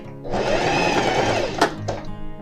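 A sewing machine stitching thin fabric such as voile, silk or satin, a steady whirring hum for about a second and a half, followed by two sharp clicks as the stitching is reversed.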